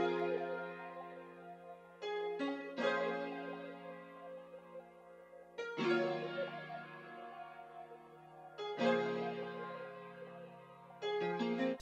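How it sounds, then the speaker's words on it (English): Simple keys chords made in FL Studio, a few soft sustained chords struck one after another at a slow pace and left to decay, played alone and fairly quiet. "So the first thing I did was have these keys that I made that sound like this."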